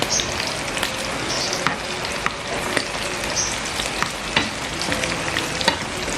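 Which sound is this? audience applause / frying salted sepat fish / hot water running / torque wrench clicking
frying salted sepat fish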